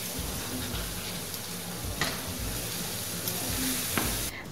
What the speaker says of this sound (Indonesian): kita masukkan bumbu yang sudah kita haluskan tadi ya. Ditumis sampai harum.